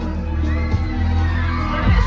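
Girls at a Turkish henna night screaming and cheering together, a loud dense crowd roar with high shrill voices rising over a booming low background.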